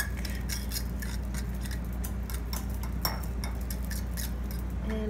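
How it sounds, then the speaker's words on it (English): Whisk beating a cinnamon mixture in a bowl for a what-I-eat-in-a-day breakfast, a steady run of quick, light metallic ticks and clinks that carries on over a constant low hum. "Whisk, whisk, whisk."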